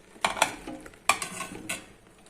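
Onions and eggplant with tomatoes are stirred in a pan, with a few distinct scraping and clinking strokes of a utensil against the pan amid a faint sizzle, fairly quiet and without talking.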